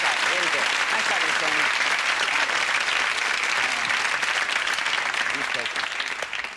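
A studio audience at a televised magic show applauds volunteers, a loud, continuous wash of clapping with faint voices and cheers mixed underneath, tapering slightly at the end.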